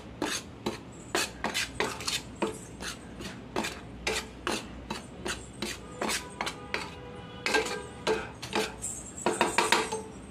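Gram flour coating mixture is mixed in a bowl with quick repeated scraping and clinking strokes at an uneven rhythm, close and fairly loud, and no one speaks.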